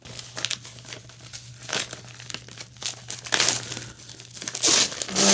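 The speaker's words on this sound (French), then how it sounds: "Ah, puis du beau papier bulle." Bubble wrap crinkles and rustles as books are unpacked from a parcel, close, irregular crackling bursts that grow louder and denser toward the end, with a low steady hum underneath.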